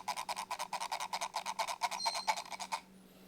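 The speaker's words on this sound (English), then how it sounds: "The scroll wheel is probably the only issue with this mouse." Zowie U2 gaming mouse scroll wheel rolling in a fast, even run of close, crisp ratcheting clicks for under three seconds, then stopping, with no talk.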